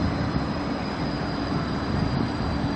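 A Gold Coast tram pulling into Broadbeach North station, heard from on board as a steady loud rumble with broadband rolling noise and a faint high whine.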